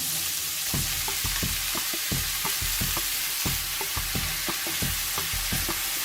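Mushrooms and salty pancetta fry in a pan with a steady broadband sizzle, while repeated scraping and stirring strokes knock against the pan in an uneven rhythm, close and fairly loud with no voices.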